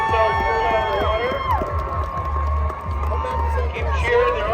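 An outdoor crowd at a crab festival in Kodiak, Alaska cheers and whoops as swimmers in survival suits race and near the water's exit, with shouts rising and falling over a busy, lively babble.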